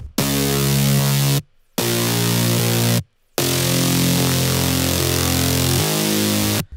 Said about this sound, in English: we also have these two low basses going on here